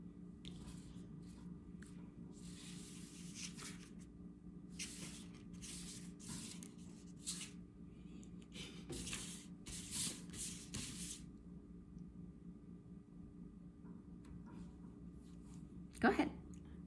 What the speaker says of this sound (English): please cut the deck and then decide which cards you want